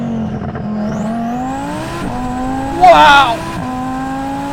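A 1000 hp twin-turbo Audi R8 accelerates hard with a steady, loud engine drone climbing in pitch, a brief sharper burst of turbo or tyre noise near the end, and an excited voice exclaiming over it.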